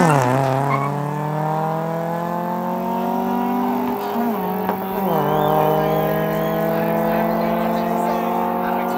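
A Toyota Corolla drag races an Auris at Nasrec, engines roaring loud and steady as the pitch climbs under hard acceleration, with gear-change dips near the middle before the revs rise again.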